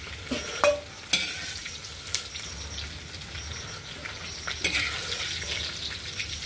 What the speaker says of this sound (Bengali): ফুলকপিটা একটু লাল লাল করে ভেজে নিলে বেশ দেখতেও ভালো লাগে।